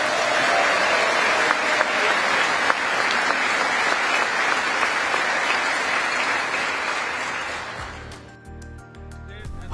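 Sustained, loud applause from a large audience during Prime Minister Modi's speech on his U.S. visit, a dense steady roar of clapping that fades out near the end.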